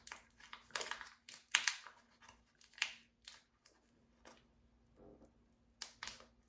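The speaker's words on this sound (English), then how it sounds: "You have to use scissors." Scissors snip repeatedly in short, crisp bursts with uneven pauses, close by and fairly quiet, alongside light rustling and crinkling, while opening hair bleaching powder.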